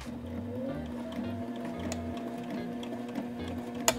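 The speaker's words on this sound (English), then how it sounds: "So we're gonna lock our stitches at the beginning." A domestic sewing machine locks stitches at the start of a fabric seam, with a steady low hum and a soft rhythmic whir, quiet and close, ending with a small click.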